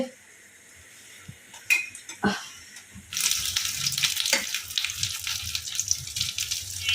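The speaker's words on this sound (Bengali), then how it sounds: "এলাচ দিলাম ঘিয়ে ভাজতেছি" Cardamom sizzles in hot ghee in a pan, first with clinks and scraping of a utensil, then a loud steady frying hiss that takes over for the second half.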